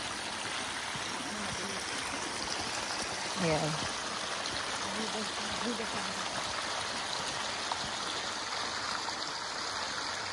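A babbling stream on a Mount Diablo hiking trail trickles steadily, a constant soft rush of flowing water close by, with brief faint voices from hikers over it.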